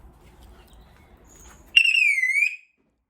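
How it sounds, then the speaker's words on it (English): After a quiet moment, a Mercedes CLK W208 car alarm siren suddenly starts on locking, a loud electronic tone wavering in pitch for under a second before cutting off. "the alarm goes off. So, and it's quite loud."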